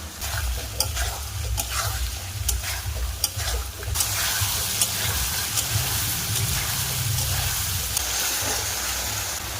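Fried potatoes tipped into a pan of sizzling spice paste for an egg and cauliflower curry, with steady frying hiss and scraping stirs, then a louder burst of sizzle as the potatoes land.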